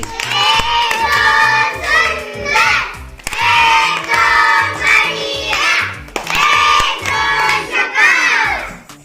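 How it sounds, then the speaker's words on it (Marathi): Classroom children cheer and shout in loud, excited bursts with some clapping after a classmate solves a matchstick equation puzzle. The outbursts come in three waves, close and energetic. "शिवरासाठी परत एकदा जोरदार टाळ्या सगळ्यांनी"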